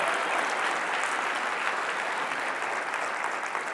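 Sustained applause from an audience at an event celebrating bringing the Olympics back to Los Angeles, a dense, even wash of clapping hands heard from a distance and continuing steadily throughout.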